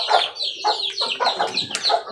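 Chickens cluck and squawk close by in a steady, busy chatter, several birds overlapping with no talking.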